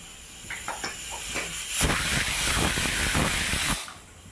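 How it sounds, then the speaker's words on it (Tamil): Mustard seeds and cumin tempering in hot oil for a medicinal greens kadaiyal, a loud broadband hiss and sputter swelling up after a few faint crackles and running steadily for about two seconds before cutting off. "கடுகு சீரகம் தாளிப்பு இருந்தாலும் போடுங்க"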